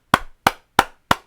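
Four crisp hand claps in a steady, evenly spaced rhythm, close and loud, with nothing else around them.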